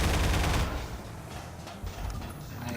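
A shotgun-wielding enemy fires in Half-Life 2: Episode Two, a loud blast or burst at the start followed by a noisy, reverberant combat tail with thuds and clatter.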